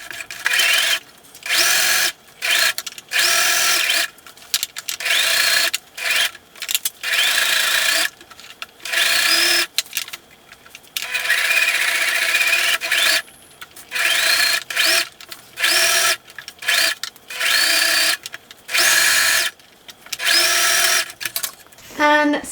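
Sewing machine stitching the seam of a slouchy tote bag, running in repeated bursts of rapid whirring stitches broken by short pauses, close and loud.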